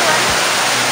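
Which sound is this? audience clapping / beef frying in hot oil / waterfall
waterfall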